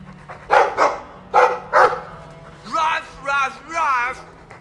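A dog barks several times in Dragon Age II, with a short run of sharp barks early, then a voice speaks over a game background tone; close and clear.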